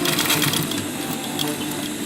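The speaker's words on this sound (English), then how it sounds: "Sew the ends to hold it in place. Just a regular stitch." A sewing machine runs a regular straight stitch across the ends of a DIY fanny pack, giving a steady, continuous mechanical whir at close range for the whole stretch with no pauses and no voices.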